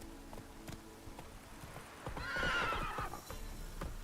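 The horse Roach in The Witcher 3 video game, heard as quick clip-clop hoofbeats in a steady gallop with a clear, loud whinny rising over them near the middle, all fairly close.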